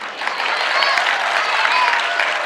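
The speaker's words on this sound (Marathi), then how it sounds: "मला 5 मुली आहे म्हणलं ना, तर मुलीच टाळ्या वाजायला लागल्या का?" Girls in a seated audience clapping at a talk, a steady, dense round of applause lasting a few seconds, loud and close, with faint crowd murmur underneath.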